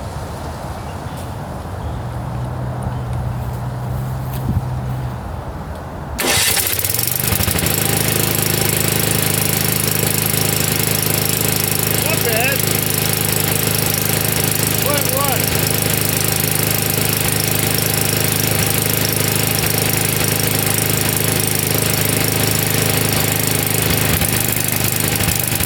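A John Deere Frontier snowblower engine with water damage starts up after a few seconds of quieter sound, then runs loudly and steadily at close range for the rest of the time.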